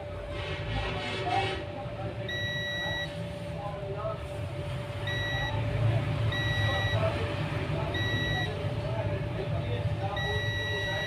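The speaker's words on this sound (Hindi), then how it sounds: "कैपेसिटर की एक साइड बीप देती है" Multimeter continuity beeps while probing capacitors on a Vgo Tel Four 44 phone board: several short, clear electronic beeps in irregular bursts over steady background hum, with someone talking.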